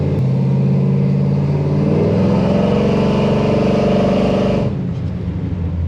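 An LS-swapped K5 Blazer's V8 engine revs up hard and climbs steadily in pitch for several seconds, loud and close, then cuts back to a lower drone.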